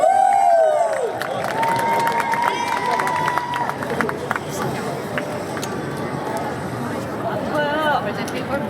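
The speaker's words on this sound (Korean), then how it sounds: "뜨거운 박수 부탁드릴게요." Crowd cheering and clapping at an outdoor charity festival in Seoul, a broad roar of applause and shouts that stays loud throughout, with a presenter's voice speaking over it near the start.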